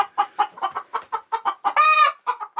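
Chickens in a large coop cluck in quick, close bursts, with one longer drawn-out squawk partway through; no talking.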